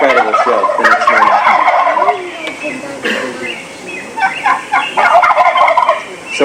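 Wild turkeys gobble from a roost tree in spring at dawn, several loud rolling gobbles overlapping with other bird calls, close and repeated across the whole stretch.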